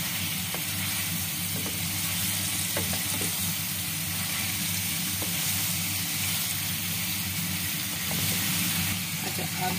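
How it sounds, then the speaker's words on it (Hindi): Potatoes tossed and stirred in a hot pan for crispy fried aloo, a steady close sizzle running throughout with occasional scraping stir clicks. "फिर यहाँ पे हम डाल देंगे आलू, इनको मिक्स कर लेंगे अच्छी तरह"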